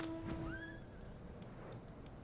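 A horse whinnies in the Final Fantasy 14 video game, one clear rising-and-falling neigh near the start, followed by faint clip-clop ticks over steady game ambience.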